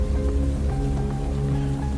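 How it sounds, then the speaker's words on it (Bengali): Rain patters steadily against a window at night in a silent house, an even wash of drops over a low sustained humming drone. "শুধু জানলার কাছে বৃষ্টির ছাট লাগায় একটানা কিরকম"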